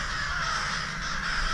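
Crows cawing loudly and continuously during a crow hunt in western New York, a close, harsh chorus of overlapping calls with no talking.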